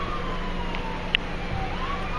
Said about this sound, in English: We've got emergency vehicles coming from all over the place. There's two more coming right there. Fire trucks, ambulances